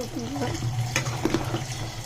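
Water is poured into a cooking pan while boiling ingredients, giving a short continuous splashing gush at close range.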